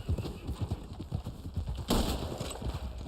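Horses galloping in the video game Red Dead Online, rapid rhythmic hoofbeats thudding throughout with a sharp gunshot-like crack near the two-second mark, fairly quiet in the mix.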